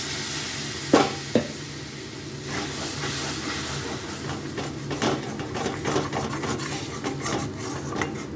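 A little water poured into a hot pan of mushroom kasha that has begun catching on the bottom, two sharp knocks followed by a sustained hissing sizzle and steam with occasional stirring scrapes, close and steady.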